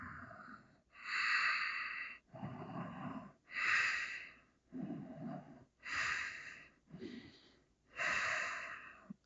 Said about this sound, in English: Take some really deep breaths.